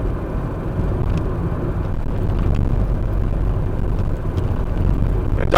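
A car drives through snowy Hetton-le-Hole past the grounds of Hetton School, its steady low road rumble and engine hum heard from inside the vehicle, continuous and fairly loud with no talking.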